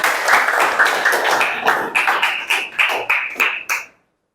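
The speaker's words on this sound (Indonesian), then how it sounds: "Tepuk tangan buat Ayu" A classroom of students claps for a classmate named Ayu, a loud, close burst of many hands that turns into rhythmic unison clapping and then stops abruptly.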